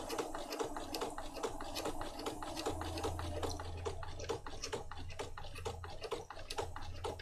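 A sewing machine stitches a paper file folder journal at a slow, even pace, its needle ticking in a regular rhythm and sounding soft and close, with no speech.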